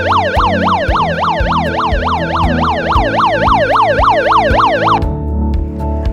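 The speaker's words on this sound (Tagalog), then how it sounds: "Ang tunog na ating madidinig ay magmumula sa megaphone ng paaralan." A school megaphone lockdown alarm sounds one long, loud electronic wail that warbles rapidly up and down for about five seconds before cutting off.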